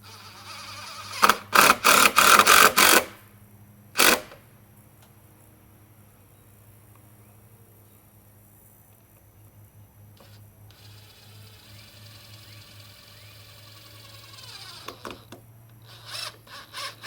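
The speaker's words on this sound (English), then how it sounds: "I'll just go ahead and screw the whole face" A power driver sinks screws into a replacement roof joist, with a burst of several short whirring runs early on, one more brief spin, then a long quiet stretch with faint rubbing and handling noises.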